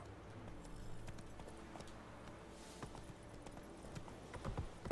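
Roach, a horse in The Witcher 3, walks with soft, faint hoofbeats in a steady clip-clop over a low ambient backdrop, getting a little louder toward the end.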